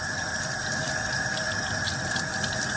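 A sink faucet runs in a steady, loud stream of water for washing dirty gloves, with a continuous hiss and no pauses or voices.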